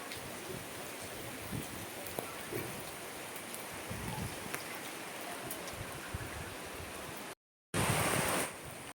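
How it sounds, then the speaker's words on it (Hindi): Steady hiss of rain falling, a continuous broadband wash that swells louder near the end after a brief cut. "ये देखो बारिश होने लगी"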